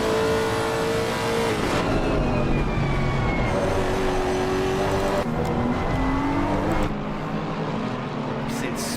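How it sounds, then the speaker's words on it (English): V8 GT3 race car engines roar continuously in Assetto Corsa Competizione, with rising and falling engine pitches as cars accelerate and pass, loud and steady under ongoing race commentary. "get blasted with that V8 engine tone"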